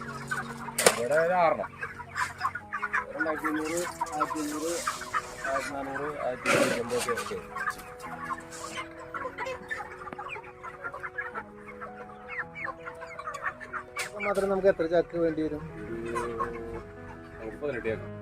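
Many caged chickens cluck and squawk continuously on a poultry farm holding about six thousand birds, with bursts of louder calls rising over steady flock chatter while people talk throughout.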